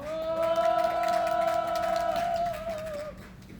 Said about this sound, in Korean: 동지 여러분들의 힘찬 함성과 박수로 시작하겠습니다